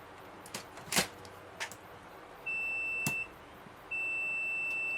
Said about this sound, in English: let's turn the multimeter back on to continuity mode